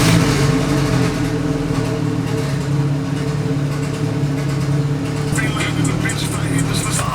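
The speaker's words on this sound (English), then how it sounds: "I'm going to just fire it up for a second here and see how it idles." A stock Honda engine runs at a steady idle, a continuous low rumble held close and loud with slight fluctuation throughout, with no talk over it.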